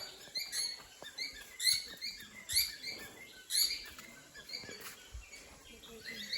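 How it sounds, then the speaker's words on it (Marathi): Many small birds, including cockatiels and plum-headed parakeets, chirp and tweet in quick, overlapping bursts in an aviary at Bondla Wildlife Sanctuary, Goa, fairly close, with soft rustling and patter underneath. "वेगवेगळ्या प्रकारचे इकडं पक्षी आहे हे बघा"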